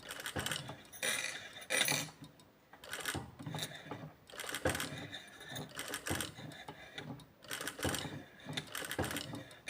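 A domestic sewing machine runs bursts of stitching through fabric while finishing off a practice seam, a rapid mechanical clatter that starts and stops every second or so, fairly close.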